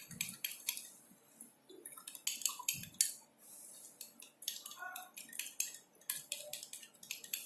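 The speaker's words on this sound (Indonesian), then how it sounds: "diaduk lagi sampai dia cukup rata" Utensil stirring a homemade hand sanitizer mixture of two ingredients, giving quick, light scraping and clinking taps against the container in irregular bursts, close and fairly quiet, with no talking.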